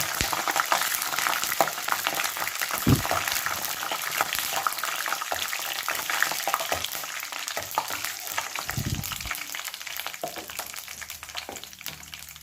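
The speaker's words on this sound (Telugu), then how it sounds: "ఇప్పుడు పల్లీలు వేస్తున్నానండి సిమ్లో సిమ్లో పెట్టుకొని బాగా వేయించాలండి" Peanuts frying in oil on a low flame for poha upma give a steady, close crackling sizzle throughout, with a few soft stirring knocks and scrapes along the way.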